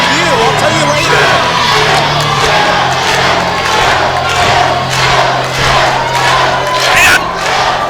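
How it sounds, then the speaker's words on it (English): A dense wrestling crowd at a PCW 25th anniversary show chants a wrestler's name, Phil, in a loud, sustained rhythmic roar that swells with scattered yells and whoops throughout. "this Orville crowd chanting Phil's name"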